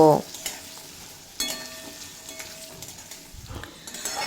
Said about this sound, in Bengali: এই আদা কাঁচা লঙ্কার সাথে আলু খুব ভালোভাবে ভেজে নেব